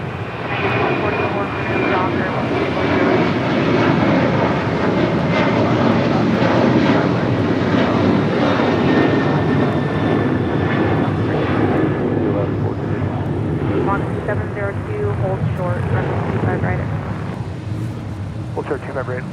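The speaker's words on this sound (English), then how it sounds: "Breeze Airways Flight 702 coming in from Richmond, Virginia in this Airbus A220." A Breeze Airways Airbus A220 arriving from Richmond, Virginia lands at LAX with a loud, sustained jet roar that builds and slowly eases, and voices are heard faintly over it.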